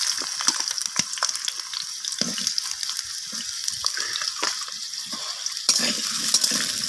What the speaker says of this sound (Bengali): এরপর আমি এখানে কেটে রাখা আলুগুলোকে তেলের মধ্যে দিয়ে দিচ্ছি